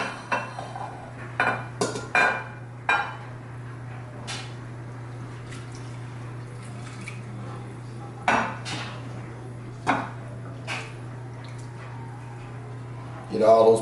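Metal utensils clink and scrape against an Instant Pot insert while cooked green peppers are lifted out, sharp intermittent clatters over a steady low hum in a quiet kitchen.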